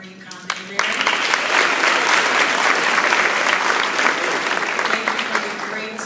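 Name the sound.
applause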